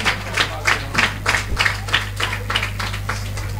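A congregation at a school thanksgiving church service clapping in a steady rhythmic beat, roughly two claps a second, over a constant low hum.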